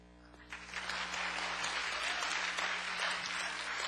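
A church congregation in Korea applauds during a testimony at a worship service, clapping rising after a brief pause into steady, moderately loud applause over a low background hum.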